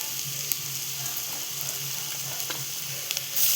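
Leafy vegetables drop into softened onions in a hot pan and give a steady, close sizzling hiss with faint stirring and small crackles throughout.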